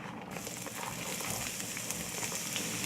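Chopped onions sizzle in hot oil in a pan for Pasta Pomodoro, a steady close crackling hiss with no pause and no talk over it.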